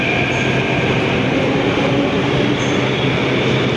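A Delhi Metro train pulls out of a station platform with a loud, steady rumbling roar of wheels and motors and a faint high whine above it, filling the whole stretch without pause.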